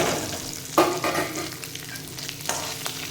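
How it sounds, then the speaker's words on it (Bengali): Spice masala mixed with ground hilsa fish heads fries and is stirred in a pan, a close, continuous sizzle with scraping strokes and a few sharper knocks. "এবার এটাকে ভালো করে কষতে হবে।"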